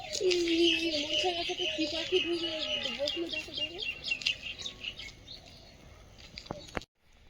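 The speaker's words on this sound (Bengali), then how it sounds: "এত পাখি কত পাখি বিভিন্ন রকম দেখা যাচ্ছে" Many birds chirp and call together in the morning outdoors along a path to the fields, a dense chorus with a lower warbling call in the first half before fading, with a sharp knock near the end.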